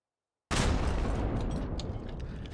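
Artillery fire in the video game Hell Let Loose: after a moment of silence, one heavy blast erupts and rolls into a long, decaying rumble with scattered distant shots, with no talk over it.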